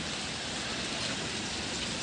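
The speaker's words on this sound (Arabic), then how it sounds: "ماما عارفه شوف المطر ده." Heavy winter rain pouring down, a dense, even hiss of falling water with no breaks and no voices.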